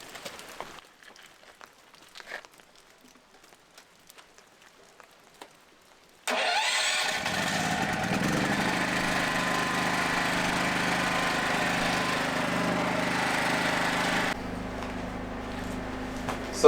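A small engine, likely a generator or similar machine at a stone barn renovation site in Portugal, cranks and catches around six seconds in after a quiet stretch, then runs steadily and loudly, dropping to a lower idle near the end.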